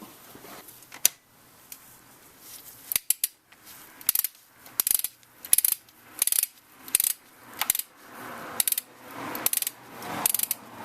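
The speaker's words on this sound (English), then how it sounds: "let's go ahead and torque this down, the spark plug, to 20 foot-pounds" A ratchet clicks as it tightens a spark plug on a 2001 Dodge Dakota 4.7L engine. Loud, close bursts of rapid pawl clicks repeat in an even back-and-forth rhythm, and no one speaks.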